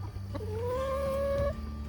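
A single drawn-out cluck or croak from a hen in a garden chicken coop, rising slightly in pitch, close and clear over a low steady background hum.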